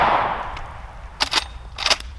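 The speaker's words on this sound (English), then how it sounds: "So I am loaded up with some subsonic or Hornady subsonic 4570s. Let's go ahead and shoot some stuff. I'm gonna shoot this concrete brick." A 45-70 rifle loaded with Hornady subsonic ammunition fires at a concrete brick outdoors, two sharp separate reports spaced under a second apart, each with a short ringing tail.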